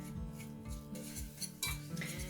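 Flour and butter stirred together in a pan for a roux, with a spoon scraping and clinking against the metal in steady, close strokes and a faint sizzle underneath.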